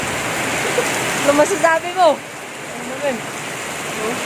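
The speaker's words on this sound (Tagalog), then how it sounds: "Napakalakas ng ulan ngayon guys tignan niyo." Heavy rain pours in a dense, constant hiss, while a few brief spoken words cut in partway through.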